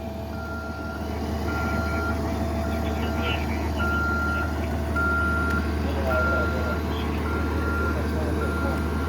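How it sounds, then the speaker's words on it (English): A bus backs up at the scene of a deadly pedestrian crash in Boston, its reversing alarm beeping in a regular slow pattern over a low idling engine rumble and steady outdoor street noise, with people talking. "He's gonna try to back that bus up out of there"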